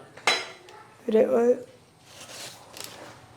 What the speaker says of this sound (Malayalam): ഇനി നമുക്ക് കുക്കർ വെക്കാം അല്ലേ?